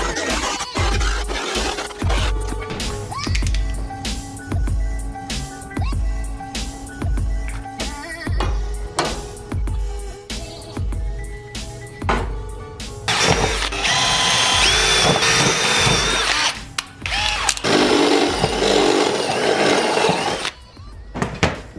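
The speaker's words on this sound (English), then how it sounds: "Here we go, Mr. Jigsaw." A jigsaw cuts a metal radiator mounting plate for an LS-swapped S10 Blazer, a steady rattling buzz with harsh, brighter stretches as the blade bites, loud and close throughout.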